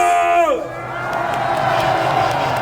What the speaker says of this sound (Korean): 10대 있다면 전방을 향해 함성.